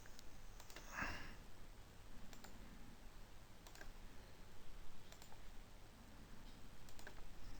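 Sparse, faint mouse clicks, a few isolated ticks spread over several seconds against a quiet room hiss, with one brief breathy sniff early on.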